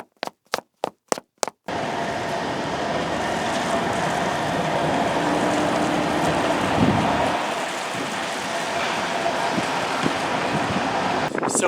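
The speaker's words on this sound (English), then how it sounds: "it's really been chucking it down with rain, and it's also a bit windy as well" Heavy rain and gusting wind outdoors near a disused railway station site on the way to a tram stop in Liverpool area, a steady loud wash of noise after a few sharp taps at the start.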